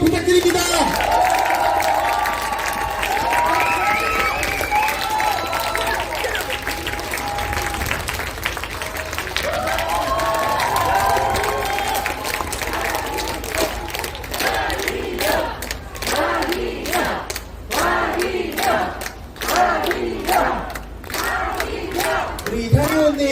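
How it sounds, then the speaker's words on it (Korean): Crowd at an outdoor election campaign rally by a traditional market applauds and cheers loudly, with shouted chants and an amplified voice over the noise early on, then sharp rhythmic unison clapping building toward the end. "큰 박수 다시 한번 부탁드립니다"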